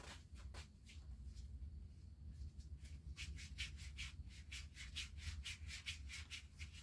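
Gloved hands rub filter oil into a foam air pre-filter for a Redmax Zenoah G7500 engine, giving close, steady squishing and rubbing strokes that quicken into a regular scrubbing rhythm toward the end, with no talk.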